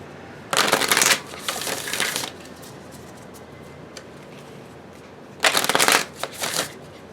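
Oracle cards are shuffled for a tarot reading in two close, crisp bursts of riffling, with quiet gaps between them.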